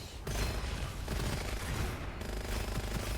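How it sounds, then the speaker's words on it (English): Rapid gunfire from the shooter video game Gunfire Reborn, a dense, continuous fusillade of loud shots filling the whole few seconds with no talking. "I'm shooting these guys this time, not doing my blossom to explode them like I usually do."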